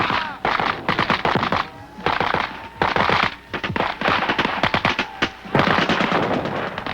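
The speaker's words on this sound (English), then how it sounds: "They sweep forward in line, pausing only to fire from the shoulder, then continuing their advance." Rifles fired from the shoulder by soldiers sweeping forward in a line during an infantry assault: dense, rapid volleys of sharp cracks overlapping into continuous bursts, loud and close, with brief lulls between clusters.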